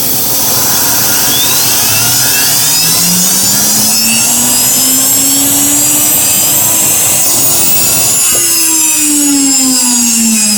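A small laboratory impulse turbine spins up toward 30,000–35,000 RPM, a loud continuous whine whose pitch climbs steadily over about eight seconds, then jumps and holds high, over a constant rushing air hiss with no talk.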